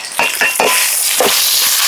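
A metal spoon stirs ginger-garlic paste in a kadai for a chicken gizzard dish, giving several close, sharp clinks and scrapes against the pan in an uneven rhythm, with no voices.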